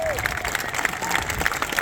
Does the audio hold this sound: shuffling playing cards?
no